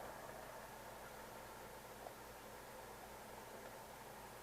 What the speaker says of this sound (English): there you can hear a little bit of static